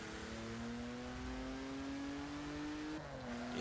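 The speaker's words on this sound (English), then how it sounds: "All the turbos do start to overwhelm the engine noise as you go faster and faster." Turbocharged engine of a 2017 Lincoln Continental in Forza Motorsport 7 drones steadily as it accelerates, a smooth rising hum with turbo whine layered over it, briefly dipping at a gear change before climbing again.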